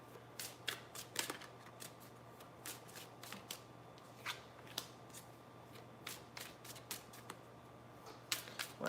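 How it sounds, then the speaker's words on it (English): Tarot cards are shuffled and flicked down onto a surface, a string of quiet, sharp papery slaps at an irregular pace under a faint steady hum. "let's go ahead and start throwing cards down, 3 cards each"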